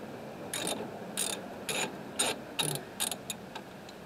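A ratchet fitted with a 9/16 socket clicks in short bursts while loosening a brake caliper slide bolt on a 2006 Nissan Sentra, about eight quick close ratcheting strokes with brief pauses, no talk.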